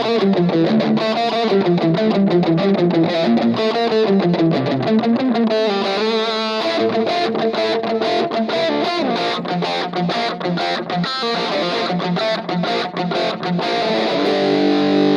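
Loud, heavily distorted electric guitar through a Positive Grid Spark Go amp, on a Marshall model with drive, delay and reverb, plays a fast 80s hair-metal riff with sustained notes and quick runs, no voices.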